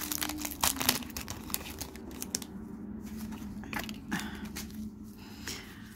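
A Pokémon card booster pack wrapper is handled and opened up close. Its foil crinkles and crackles in quick bursts, loudest early and then easing into softer rustles over a faint low background.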